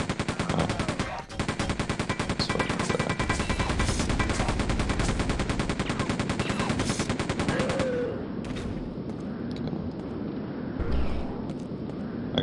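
Dense, continuous rapid-fire gunfire from the video game Quake 2, loud and relentless for about eight seconds, then giving way to sparser shots and explosive bursts, with no talking.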